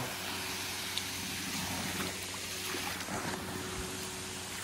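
A stream flows beside a rough off-road track, a faint, steady rush of water with light trickling and no voices.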